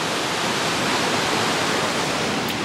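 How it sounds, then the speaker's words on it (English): A waterfall at the end of a hiking trail sends up a loud, steady rushing roar of falling water that fills the whole stretch without a break. "There's a waterfall right there."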